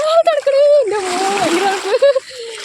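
Sea water splashes around feet being washed at Karbabad beach in Bahrain, a close, noisy wash of water heard under continuous talking.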